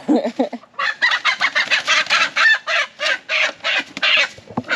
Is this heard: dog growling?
no